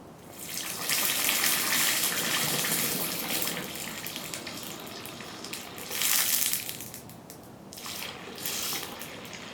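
A clay-coated steel arrowhead is plunged into cold oil to quench it, producing a loud, steady hissing rush that swells and fades over several seconds, with a second surge partway through.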